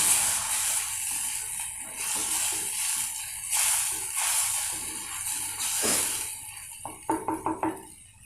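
Mint masala bubbling in a pan on the stove, a soft steady hiss with intermittent gurgling pops and a few quick clinks of a utensil near the end, fairly quiet, no voices.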